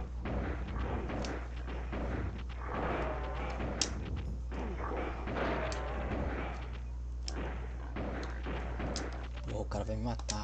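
Gunfire in the shooter game Duke Nukem: Time to Kill, including a close-range 12-gauge shotgun blast, crackles as repeated sharp shots and bursts over a low steady hum, with a person talking over most of it.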